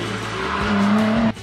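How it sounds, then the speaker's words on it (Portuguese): Mitsubishi Cup pickup trucks race on dirt, a loud engine roaring close with tire scrubbing and a rising whine before the sound drops off abruptly. "Da terra sendo jogada para cima, das picapes se movimentando."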